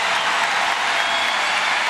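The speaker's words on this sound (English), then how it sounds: "give them a nice ovation from the crowd" A basketball crowd at an Evansville versus Wichita State game gives a loud, steady ovation, dense applause with no break.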